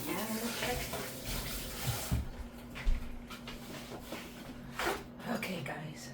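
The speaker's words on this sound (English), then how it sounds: "Let me wash my hands." Hands are washed under a running tap in a home kitchen while making pizza, a steady close rush of water with splashy bursts under a low mechanical hum.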